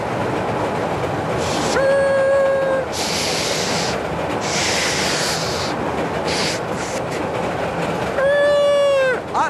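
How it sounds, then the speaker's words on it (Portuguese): Toy train whistle sounding twice, a rising tone near the start and again near the end, over a steady loud rattling rail-like background in a children's classroom scene. "o trem foi embora para os zoológicos vazio."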